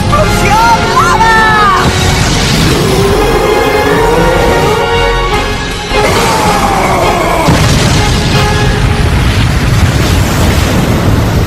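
A blue explosion attack from the Blue Dragon anime lands as a heavy, sustained booming blast that rumbles on for several seconds, with shouting voices and sweeping tonal effects layered over it.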